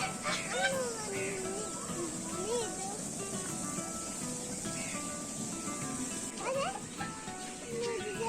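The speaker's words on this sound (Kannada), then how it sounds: "ಬಾತುಕೋಳಿ." A duck calls repeatedly with short, rising honking cries scattered across the stretch, heard at moderate distance beneath ongoing conversation.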